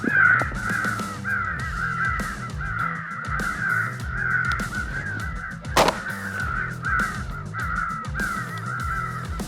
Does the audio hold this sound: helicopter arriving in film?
no